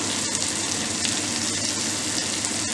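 Three crushed garlic cloves frying in a pan for brinjal kuzhambu: a loud, dense, steady sizzle close up, with an occasional faint stir and no talking.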